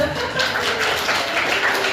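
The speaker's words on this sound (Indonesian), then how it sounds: "Tepuk tangan dong" A classroom audience claps hands together in a dense, steady wash of applause that holds at an even loudness for about two seconds.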